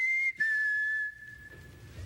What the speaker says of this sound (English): you just whistle to me